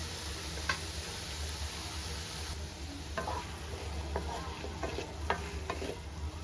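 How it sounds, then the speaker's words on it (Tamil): Tomatoes and onions softening in a pan for green peas kurma, a steady low sizzle with a few scattered clicks and taps of a stirring utensil, no voices. "தக்காளி மட்டும் கொஞ்சம் லைட்டாக வதங்குற வரைக்கும் நம்ம வெயிட் பண்ணுவோம்"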